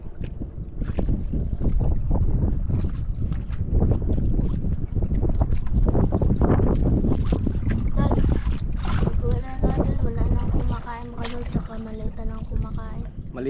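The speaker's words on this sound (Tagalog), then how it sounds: "Lapit yung isang bangka oh." A small wooden fishing boat draws closer across open water, its engine and hull noise steady and fairly loud under gusting wind buffeting the microphone, with bursts of voices on board.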